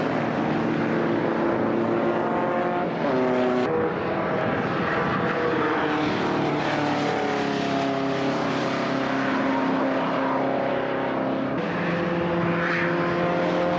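Beetle Cup race cars in a BRSCC race drive past on a circuit, their engines droning loudly with shifting pitch as they pass. The roar is continuous and stays close throughout.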